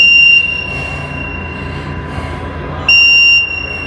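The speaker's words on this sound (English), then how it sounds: "See if I can shut this alarm off." An alarm on a parcel sorting machinery control panel sounds as a steady high electronic tone in short bursts, beginning and ending abruptly over a loud industrial hum, with no talk.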